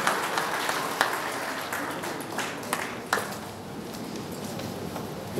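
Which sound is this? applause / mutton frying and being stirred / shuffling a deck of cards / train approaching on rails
applause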